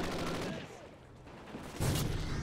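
Gunfire in the multiplayer video game Call of Duty Ghosts, a burst of sharp shots followed by a louder cluster of rapid reports, with game ambience between.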